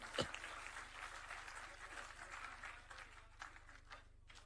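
An audience at a Gujarati ghazal poetry recital applauds, a soft, fairly distant patter of clapping that carries on steadily and thins toward the end, with a sharp knock at the start.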